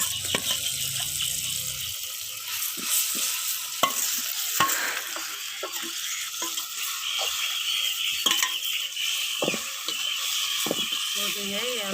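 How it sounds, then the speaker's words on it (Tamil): Prawns sautéing in a pan with softened onion, tomato and garlic for a prawn thokku, giving a steady sizzle with repeated spoon scrapes and stirring knocks throughout. "எறா நல்லா ஒரு 5 நிமிஷம் வரைக்கும் வதங்கட்டும்."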